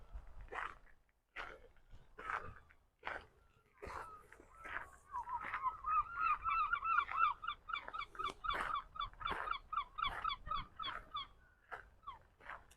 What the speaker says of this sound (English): Lots of seagulls here in Arbroath, known for its fishing in the harbour, and seagulls are very noisy here.